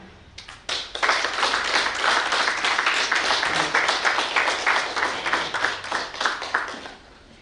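Sustained applause from an audience at a Catholic Sisters COVID-19 vaccine ambassadors campaign launch in Uganda, dense and even for several seconds before tapering off, with no one talking over it.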